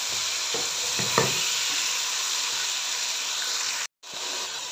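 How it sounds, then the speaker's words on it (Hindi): Chopped tomatoes fry in a pan for vegetable pulao, a steady close sizzle with a few stirring scrapes near the start and a brief cut to silence before the sizzle resumes; no one speaks. "यहाँ पे ऐड कर दूँगी कटे हुए टमाटर। टमाटर को थोड़ा सा टेंडर होने तक कुक करेंगे।"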